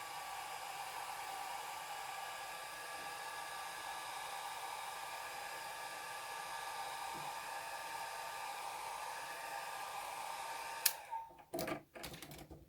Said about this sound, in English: So I'm just going to use my dryer.